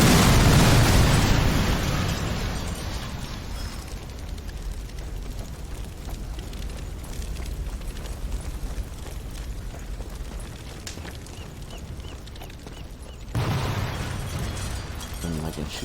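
A red box packed with explosives blows up in the game Sniper Elite 4, a loud opening boom that fades into a long rumbling tail, with a second burst near the end.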